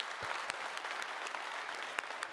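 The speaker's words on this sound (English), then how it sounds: "I'd say another round of applause." A faint round of applause from many hands runs steadily through a livestream roast, with a few sharper individual claps standing out from the even patter.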